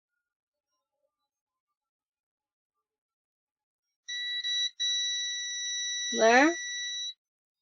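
A steady high-pitched continuity beep from a multimeter starts abruptly, drops out for an instant, then holds for about three seconds before cutting off, with a short spoken word over it near the end.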